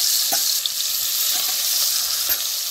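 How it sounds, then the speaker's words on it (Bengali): Fish pieces go into hot mustard oil in a wok, setting off a loud, continuous bright sizzle with a few small pops and spatters, close up and steady throughout. "তেল গরম হয়েছে, এখন আমি একটা একটা করে মাছ দিয়ে দিব এরকম করে।"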